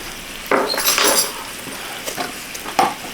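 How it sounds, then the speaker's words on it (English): A spoon stirs heavy cream in a bowl with a few scraping swishes and light clinks against the side, short and close, with no talk. "Give this a little stir, stir, stir, stir."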